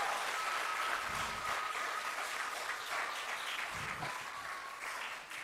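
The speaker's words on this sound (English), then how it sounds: "Parents, give them a round of applause." An audience applauds graduating cadets at a 2024 Erie Police Athletic League graduation ceremony; steady, dense clapping fills the room throughout and slowly tapers toward the end.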